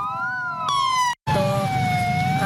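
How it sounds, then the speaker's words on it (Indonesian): Sirens from three ambulances wail together at a memorial vigil, several overlapping tones sweeping and holding loud and close, cut by a brief moment of silence before sounding on. "diakhiri dengan pembunyian sirine dari 3 unit ambulans"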